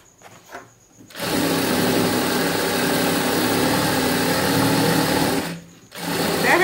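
A sewing machine stitches the edge of a rug, running in a loud, steady whir for several seconds, then briefly stopping before starting up again.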